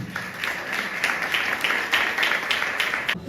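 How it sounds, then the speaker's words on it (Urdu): A church congregation applauding: a dense, steady burst of many hands clapping together, loud and fairly close, lasting the whole moment without pause. "اس کے لیے پرزور تالیاں بجائیں"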